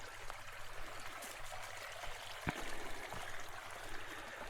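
A creek flows beside a canopied single-track forest trail on the Sunday Gulch Trail in the Black Hills, a faint, steady trickling wash with a few soft knocks, no voices.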